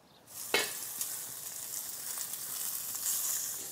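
Diced pork bacon hits a very hot pan and breaks into loud, steady sizzling, with a sharp crackle at the start and a continuous fry after it.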